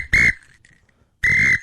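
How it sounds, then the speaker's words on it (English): A person gives two short, shrill whistled blasts, loud and close, separated by about a second of near silence, on a radio talk show. "Oh, that's the worst whistle."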